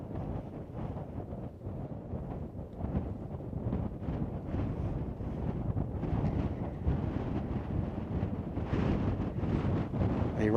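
Steady, rough wind buffeting the microphone on a high-elevation mountain top, a constant low roar with gusts, no voices.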